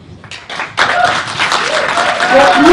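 Audience clapping at an Oakland city attorney candidates forum, starting with a few claps and swelling into loud sustained applause mixed with crowd voices.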